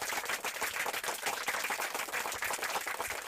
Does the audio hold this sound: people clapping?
yes